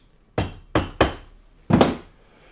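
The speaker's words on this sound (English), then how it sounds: "Do a little tap tap on my anvil just to make sure the staple is nice and tight." A hammer taps a staple on an anvil in four sharp metallic strikes, three in quick succession then one slightly heavier blow after a pause, each ringing briefly and close.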